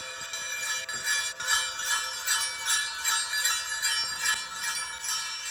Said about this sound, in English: These are my dad's sleigh bells